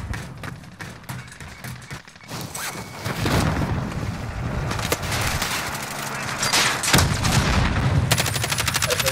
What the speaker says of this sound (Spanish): Están peleando. Están tirando de arriba para abajo, eh.